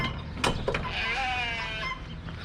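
A sheep bleats on a farm, one drawn-out wavering cry close by, preceded by a couple of short knocks over steady outdoor background noise.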